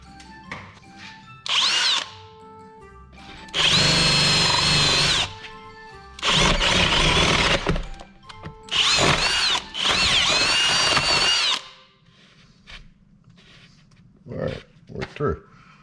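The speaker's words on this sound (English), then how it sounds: "I have my drill just sitting over here." A power drill whirs in several bursts of a second or two each, separated by pauses, with talk at low level in the gaps.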